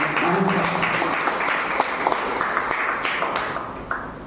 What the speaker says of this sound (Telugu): చప్పట్లు కొట్టి దేవుని నామాన్ని